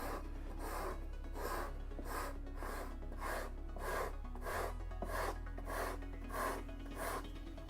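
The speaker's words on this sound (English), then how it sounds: "So the more time you spend sanding and smoothing, the less trouble you're going to have further down the line." A foam helmet is sanded and smoothed by hand, making a close, rhythmic rasping rub. Around a dozen even strokes repeat steadily over a low background hum.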